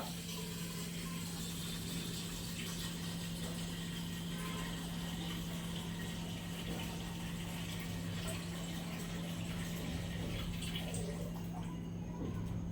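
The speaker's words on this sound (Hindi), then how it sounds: "और इसमें पानी भर दूंगा।" Tap water runs steadily into a cooking pot in a home kitchen, a continuous close rushing stream with a faint mechanical clatter underneath, no pauses throughout.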